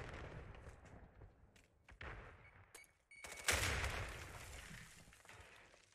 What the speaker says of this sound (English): couple of grenades go off.